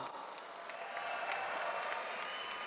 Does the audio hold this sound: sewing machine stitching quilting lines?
no